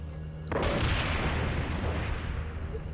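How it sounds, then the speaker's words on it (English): Sustained gunfire and explosions in Far Cry 6 keep up a dense, loud roar of overlapping shots and booms, beginning abruptly after a short pause and continuing without letup. "I'm curious who's doing all the shooting"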